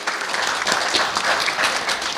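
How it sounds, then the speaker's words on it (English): Loud, steady applause from an audience at a Hindu temple Durga Ashtami service, greeting the head priest, a dense wash of many hands clapping close by with no pauses. "So Pandit Gyaneshwar Tiwari ji, our head priest, give him a big hand, please."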